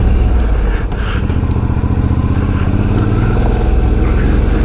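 Suzuki V-Strom 650 motorcycle under way, its engine droning loud and close with a steady low rumble and a brief dip in pitch before it pulls on, mixed with wind rush.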